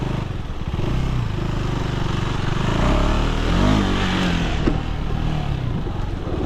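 KTM 390 Enduro R motorcycle ridden off-road, its single-cylinder engine droning and revving up and down, close and loud, with a rising pull in the middle.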